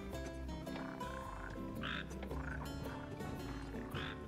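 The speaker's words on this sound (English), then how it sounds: "Only the red frog native to Ulster suits my needs." Red frog croaking in Final Fantasy XV, repeated croaks over continuous game music and ambience, close and clear with no talking.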